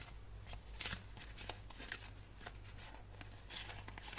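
Oracle cards being handled and shuffled close by: soft, steady rustling and light flicks over a constant low hum, with no talking.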